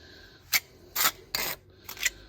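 Excess joint filler being scraped off a patio surface, with four separate rasping strokes, short and close, the middle two longer than the first and last, with quiet gaps between.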